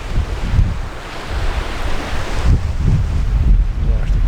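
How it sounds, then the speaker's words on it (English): Sea waves wash in near the pier on the beach at Hua Hin, a continuous surging hiss with gentle swells, mixed with gusty wind buffeting the microphone and no speech. "There's the pier and there's the sea."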